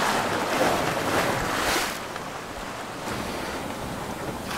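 Sea waves wash steadily around a sailing boat off the Ilha de Cima, with wind buffeting the microphone; the surf is loud at first, then eases slightly partway through as the swell calms.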